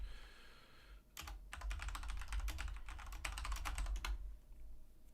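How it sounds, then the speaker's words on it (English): Rapid, loud clatter of keystrokes on a noisy computer keyboard, starting after a second of quiet and running as a dense, continuous burst before stopping near the end, with a low hum underneath. "My stupid loud keyboard. Oh my god, it's so loud."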